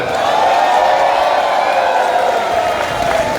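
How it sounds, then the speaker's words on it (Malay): A large crowd of Barisan Nasional supporters at a Malaysian by-election nomination event roars with sustained cheering and clapping, a dense, steady wash of noise from many people at a distance. "saya minta tepukan penyokong-penyokong barisan nasional"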